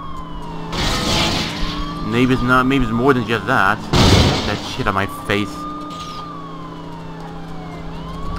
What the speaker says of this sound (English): I got the siren on, so...